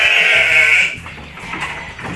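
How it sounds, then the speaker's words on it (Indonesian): One loud, close Texel sheep bleat at a farm, held for about a second, then quieter animal and yard noise. "domba yang ke 8"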